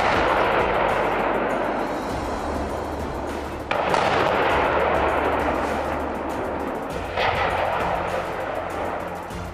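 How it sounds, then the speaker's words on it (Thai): Explosive charges of over 100 kilograms demolish concrete pillars of a tall structure, the highest nearly 60 metres: a loud, sustained broadband roar of blasting and debris, with two fresh bursts renewing the rumble partway through. "ต้องใช้ระเบิดกว่า100กิโลกรัมในการทำลายคอนกรีตที่แข็งแกร่งขนาดนี้"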